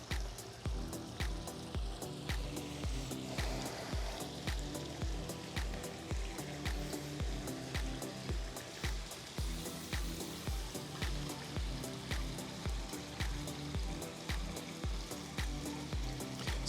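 A pool waterfall splashes and trickles continuously, with a steady rhythmic pulsing of regular beats under the flow.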